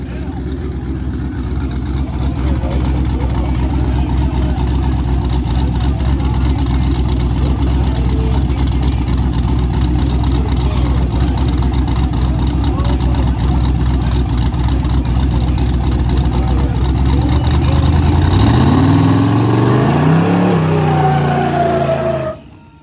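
Subaru all-wheel-drive car at a rally checkpoint, its engine a loud steady drone throughout with rising revs near the end as it pulls away, while people talk over it.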